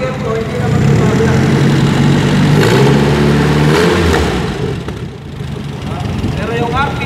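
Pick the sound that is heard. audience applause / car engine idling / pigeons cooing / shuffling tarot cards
car engine idling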